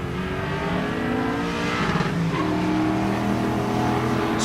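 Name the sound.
street cars accelerating down drag strip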